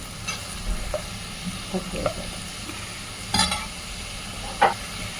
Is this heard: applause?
no